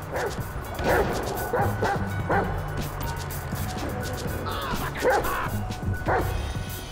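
A dog barking in the GTA 5 video game, a few sharp barks and yips spaced through a steady background rumble of game noise.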